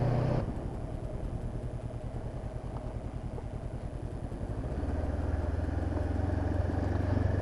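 A Honda CB500X adventure motorcycle rolls along a gravel road in warm weather, its engine humming steadily up close with a rhythmic mechanical pulse, rising slightly in tone toward the end.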